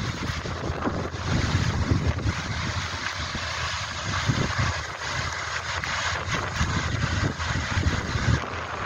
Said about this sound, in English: Now it is very windy